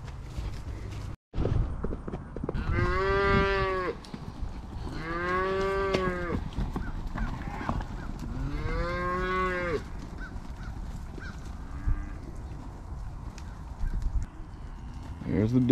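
Cattle lowing loudly at a farm, three long drawn-out moos in quick succession close by, with rustling and livestock noise around them and no talk.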